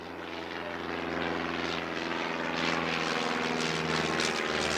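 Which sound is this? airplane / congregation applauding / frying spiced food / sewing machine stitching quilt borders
airplane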